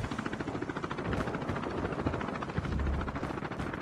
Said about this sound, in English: Heads up, the enemy has deployed chopper gunner.